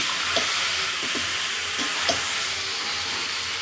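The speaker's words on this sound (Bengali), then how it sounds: "একটু ভালো করে কষিয়ে নিচ্ছি" Whole chicken being stir-fried dry in a pan, with a loud, even hiss of frying and several light spoon scrapes and taps at irregular intervals.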